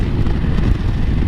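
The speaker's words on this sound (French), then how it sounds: "Mais il y a beaucoup trop de vent latéral là." Steady, heavy crosswind buffeting roars across a microphone while riding a motorcycle, with a low rumbling rush and no voices.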